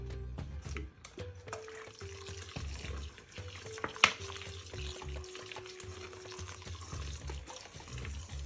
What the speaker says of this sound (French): je vais mettre le vinaigre